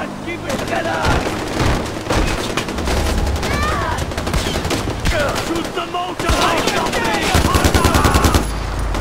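Automatic gunfire from a Far Cry 4 firefight, dense bursts of shots layered with explosions and game effects, loud and continuous throughout, with a voice shouting briefly over the shooting.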